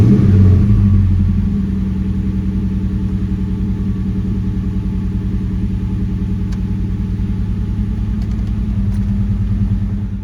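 A car with a battery that sat dead in a garage for over a year, jump-started with a NOVSIGHT 5000A portable jump starter, fires up with a brief loud burst and then settles into a steady, close idle rumble.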